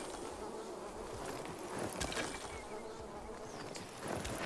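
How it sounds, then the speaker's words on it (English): Bees buzz in the Dying Light 2 video game, a continuous droning insect hum heard up close under a layer of broadband ambient game noise with occasional soft thuds. "Bees."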